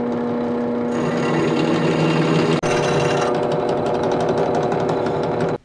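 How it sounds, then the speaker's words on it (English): A power drill bores a small pilot hole in a part for a DIY electric longboard, running as a steady, loud whir for about five seconds before stopping abruptly. "I'm going to drill it small first because this isn't exactly round."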